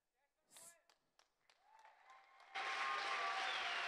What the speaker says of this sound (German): Applaus für die beiden, jawohl